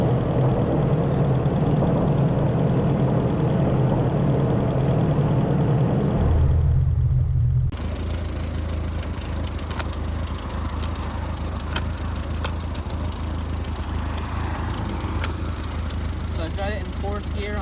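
Ford 8N tractor engine running with a brush hog attached, a steady low mechanical drone that drops abruptly partway through and then continues at a lower, rougher level.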